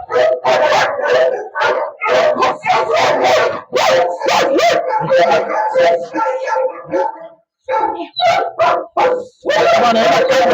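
A dog snarls and barks in rapid, loud bursts close by during bite training with a towel, with a couple of brief pauses before the barking resumes at full force.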